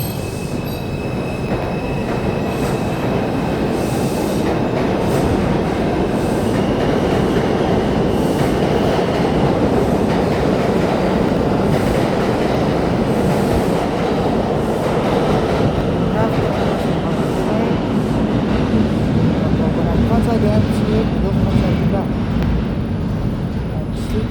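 Loud, continuous rumble from inside a moving number 2 train carriage, with rail wheels squealing and clattering throughout while a person talks over the noise.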